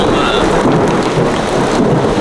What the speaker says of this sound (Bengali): তিন দিন ধরে টানা বৃষ্টি হচ্ছে টানা